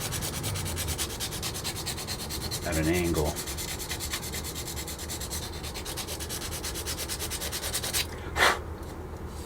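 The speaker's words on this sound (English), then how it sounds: "I can try and make this work with a little bit of sanding or filing" Steady abrasive rubbing of sanding or filing a plastic part of a 1990 AMT Batman Batwing model kit runs throughout, fairly close, with a brief voice murmuring partway and a sharp squeak near the end.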